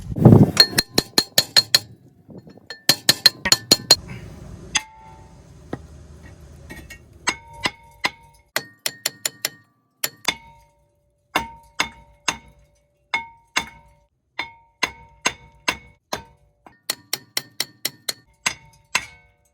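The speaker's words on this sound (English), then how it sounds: "So I'm just going to hammer it out. Hit it with a hammer." Hammer blows on a stuck front brake rotor of a 2014 Toyota Avalon Hybrid ring out in quick clusters of sharp metal-on-metal clanging strikes, pausing between rounds, loud and close.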